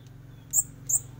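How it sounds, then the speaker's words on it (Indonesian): Two short, high-pitched chirps from green leafbird chicks, spaced apart over a low steady hum. "cucak hijau lokal Banyuwangi, anakan"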